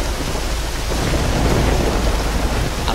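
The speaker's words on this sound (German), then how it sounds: "Hier ist auch immer so oft Gewitter, ey, das ist unglaublich." Steady heavy rain with a low rumble of thunder fills an airport firefighting simulation game, a dense continuous wash of noise with no voices.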